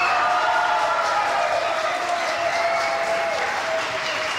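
Sustained applause mixed with crowd cheering for a contestant at a Chilean dance competition, a thick continuous roar of clapping and voices that eases slightly toward the end.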